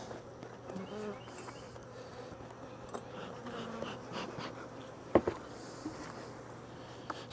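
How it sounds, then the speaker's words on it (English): Honeybees in a packed production hive give off a steady, soft buzzing hum that stays fairly quiet throughout, with a few brief knocks and handling sounds near the end. "You can see how many bees is under there"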